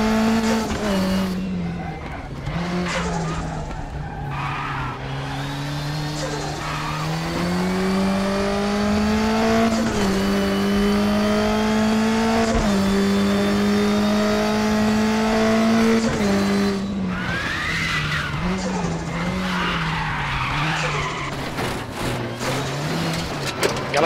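Volvo 240T race car in the RaceRoom Racing game, its engine droning steadily through shifting revs with a front wheel locking up and tires squealing, continuous and close throughout.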